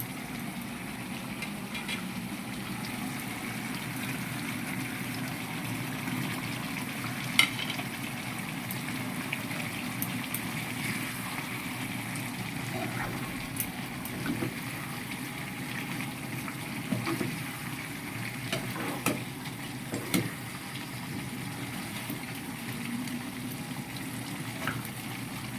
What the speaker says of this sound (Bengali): এরপরে হচ্ছে আমি ভেজে রাখা আলুগুলো আমি এখানে দিয়ে দিব।